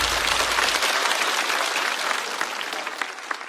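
A studio audience at a stand-up comedy show applauds loudly, dense clapping that starts strong and slowly thins out.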